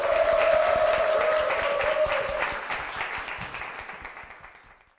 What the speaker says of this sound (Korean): 이현신 집사님, 박수로 모시겠습니다.